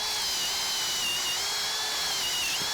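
A power drill fitted with an Irwin Speedbor paddle bit bores through treated 4x6 timber, making a loud, continuous high whine that holds steady throughout with a slight pitch dip near the end.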